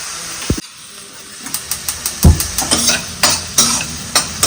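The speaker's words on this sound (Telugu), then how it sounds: "ఇంకో 1 స్పూన్ ఘీ యాడ్ చేసుకొని పైనాపిల్ ని వేపుకోవాలి." Half a cup of pineapple pieces fries in a spoon of ghee for rava kesari, sizzling softly under a rhythmic series of spatula scrapes and taps against the pan, close and fairly loud.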